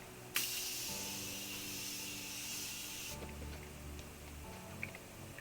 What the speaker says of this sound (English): I'm going to use some of my Morphe spray to melt everything.